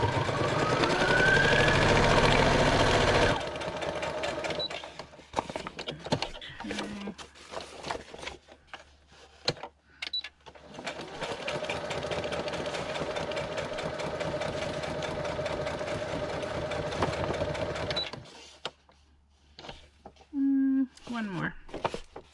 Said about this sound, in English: I will just be another moment of stitching and then we'll be done